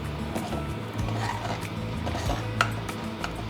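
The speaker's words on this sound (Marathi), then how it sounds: "वाटण पूर्ण सुकेपर्यंत चांगलं परतून घ्यायचं आहे" Thick ground masala paste stirred and scraped around a pan as it dries, with soft rubbing and gentle scraping strokes under a low kitchen hum and an occasional light knock of the spoon.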